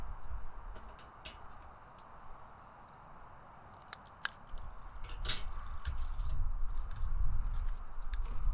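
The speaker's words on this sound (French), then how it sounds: "Coupez les 3 pailles en morceaux d'environ 10 cm de longueur sur le côté avec le coude." Scissors cutting plastic drinking straws into short pieces, giving quiet, sharp snips that come irregularly, some close together, over a low background rumble.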